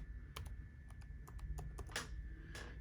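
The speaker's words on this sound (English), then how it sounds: "I'll go ahead and type in that same." A meeting code is typed on a computer keyboard as a quick series of soft, close key clicks in short irregular bursts over a quiet background.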